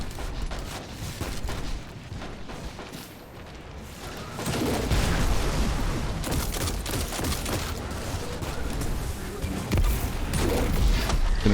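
Rocket fire and blasts against a barrier champion in the Destiny 2 lost sector The Quarry, heard as dense, continuous gunfire and booming explosions that swell louder in the second half, with no voices.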